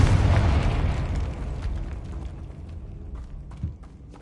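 A Confringo spell from Hogwarts Legacy detonates inside a tomb: a loud, booming blast at the start with a rumbling tail that fades over a few seconds, then a faint thud near the end and no talking.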